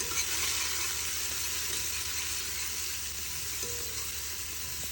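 Chopped onion fries in hot oil with whole spices such as large cardamom for a goat trotter paya curry, a steady close sizzle and hiss with faint stirring underneath.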